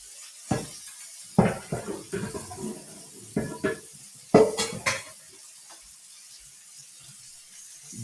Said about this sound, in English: So I'm also gonna grab my stir frying pan.